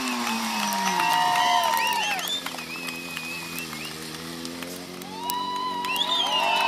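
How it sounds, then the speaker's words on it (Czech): An outdoor crowd applauds a motorcycle stunt rider, a dense, rain-like patter of clapping mixed with whistles and cheers, dipping briefly in the middle before swelling again. "Zatleskejte mu"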